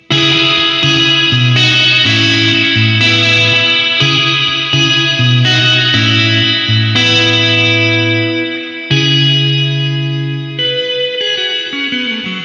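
Bright electric guitar chords ring out through a Boss RV-5 digital reverb pedal with its tone turned up to maximum, giving a wide, shimmering reverb, several strummed phrases in a row, loud and close, with no voices.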